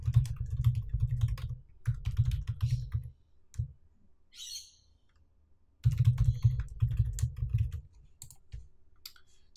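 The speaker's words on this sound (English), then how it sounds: "So once I've typed in the user ID and password" Typing on a computer keyboard while entering a username and password, with dense bursts of close keystroke clicks, a pause in the middle with a brief faint chirp, then more rapid typing.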